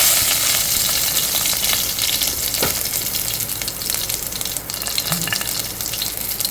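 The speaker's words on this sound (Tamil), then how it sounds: "கடுகு பொரிஞ்சிருச்சு இப்போ நம்ம நாலு காஞ்ச மிளகா போட்டுடலாம்" Dry red chillies fry in hot oil with popped mustard seeds, a loud, steady sizzle with a few faint stirring knocks and no talk.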